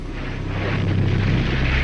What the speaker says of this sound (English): when the explosion occurred, just as planned, the Housatonic began to sink